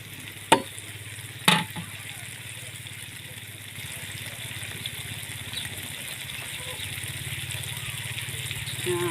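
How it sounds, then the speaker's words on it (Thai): Chili and garlic stir-frying in a pan for Thai basil pork, a steady close sizzle running throughout, with two sharp clanks of a utensil against the pan near the start. "ผัดพริกผัดกระเทียมให้หอม"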